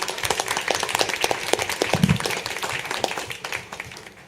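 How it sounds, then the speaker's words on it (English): A small audience at a clean energy advisory committee meeting gives a round of applause, a few seconds of scattered clapping that tapers off at the end. "I think we all owe a round of applause for Nathan and Jamie."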